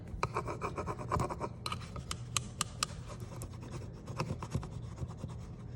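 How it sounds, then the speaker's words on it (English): An old Letraset burnisher rubs a rub-on transfer onto a clipboard in close, steady back-and-forth rasping strokes, with a few sharper scratchy passes and no speech. "So you want to be sure you burnish through the whole area."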